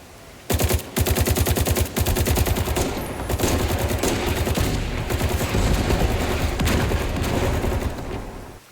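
Heavy gunfire in The Division 2, a sustained barrage of rapid automatic shots that starts abruptly and continues loud and close throughout with no voices.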